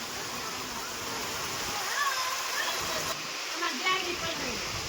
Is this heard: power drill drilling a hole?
no